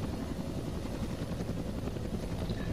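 Steady, loud rotor thump and engine drone of an AH-1W Cobra attack helicopter in the military game Arma 2, continuous throughout with no pauses or talk.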